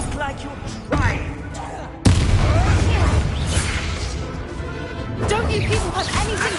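A Confringo fire spell bursts in Hogwarts Legacy combat, a sharp explosive boom that lands hard and decays into a crackling roar, with earlier smaller impacts and busy game noise around it.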